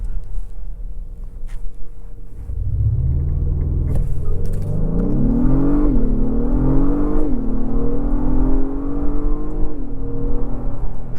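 A 2024 Acura MDX Type S with its turbo V6 launches hard from a standstill, a loud rising engine roar climbing through several upshifts, each marked by a brief dip before the pitch sweeps upward again, with steady cabin rumble underneath.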